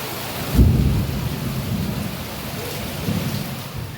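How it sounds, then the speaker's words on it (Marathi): Heavy rain pours down in a steady, loud hiss, with a deep rumble of thunder breaking in near the start and a softer roll a few seconds later. "इतक्या जोरात पाऊस पडत होता"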